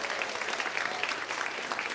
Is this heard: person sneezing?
no